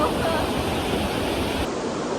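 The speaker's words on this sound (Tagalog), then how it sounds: "lakas ang agos yung bawat dam" A strong water current rushes over a dam after a typhoon, a loud, continuous roar of churning water heard close by.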